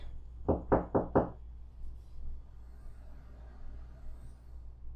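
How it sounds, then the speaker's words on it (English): Four firm knocks on a surface in a dark restroom of a bar, evenly spaced and close, followed by a low steady hum and faint room noise. "Can you knock for me?"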